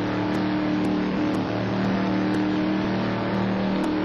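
A touring race car on track at Paul Ricard, its engine holding a loud, steady, sustained drone throughout with a faint high whine overhead and no breaks or shifts.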